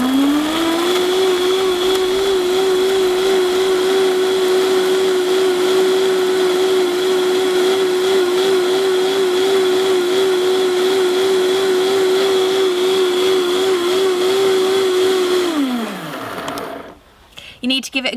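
A countertop blender whirs a blackberry and cacao smoothie with a loud, steady motor drone that holds for about fifteen seconds, then winds down and stops.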